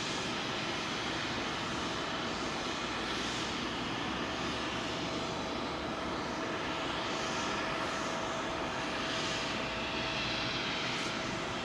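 An Icelandair Boeing 767 jet approaching Heathrow's runway 27L gives a steady, distant roar, a broad airy rumble with a faint thin whine held throughout.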